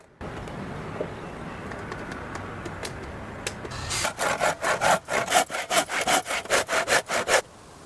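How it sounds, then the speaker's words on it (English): A saw cuts through diagonal wooden beams for a forest treehouse: after a quiet start, about a dozen rapid, rhythmic, loud rasping strokes follow in quick succession, close and alone without talk. "I used a miter saw to cut the diagonal beams to the specific size and at the correct angles"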